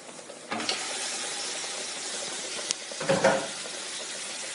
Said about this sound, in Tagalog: Make it saute. When all the aroma is inside the meat